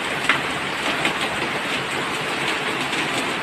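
Steady, heavy rain pours down in a dense, constant roar with no voices, loud and close.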